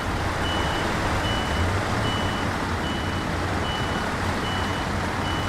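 A truck in the game Expeditions backs up, its reversing alarm beeping at an even pace over a loud constant engine drone, with no voices.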